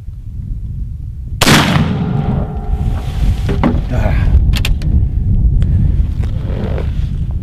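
A single sharp, loud report from a muzzleloader trade rifle firing a patched round ball over a 90-grain powder charge outdoors, with a lingering rumble and wind noise afterward.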